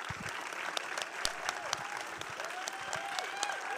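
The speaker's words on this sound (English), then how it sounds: "And another huge round of applause for John" Dense, steady audience applause fills a theater after a Q&A with filmmaker John Chester following a screening of The Biggest Little Farm, with sharp individual claps popping through a continuous roar of clapping.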